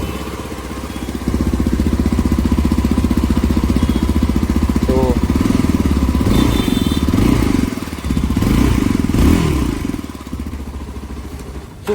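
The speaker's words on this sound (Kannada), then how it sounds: "so very quite engine note, ತುಂಬ ಲೌಡ್ನೆಸ್ ಏನಿಲ್ಲ, ಬಟ್ ವೆರಿ ಬೇಸಿ" A Yezdi Adventure motorcycle, 2025 model, idles with a deep, bassy exhaust note, a steady low thrum that is not very loud, with a couple of light blips and a softer tail at the end.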